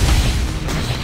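A heavy explosion blast in the Global Agenda shooter game, a loud, dense low boom filling the whole short moment with rumbling debris.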